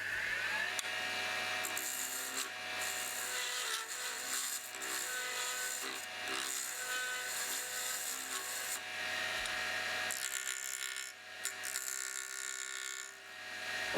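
Lathe cutting into a resin casting mold piece, a steady close rasping and scraping of the tool against the turning workpiece that runs continuously with the motor hum underneath, briefly dipping once before resuming.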